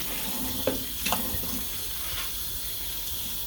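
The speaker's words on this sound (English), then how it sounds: "this is really hot water that I'm running right now" Very hot water runs steadily from a tap into a sink, a continuous hiss with a few small splashes and clinks early on.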